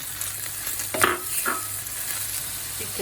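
Tomatoes tipped into a frying pan for oven-baked karnıyarık (stuffed eggplant) bring two quick bursts of sizzle and scraping in close succession over a low steady frying hiss, with no voices.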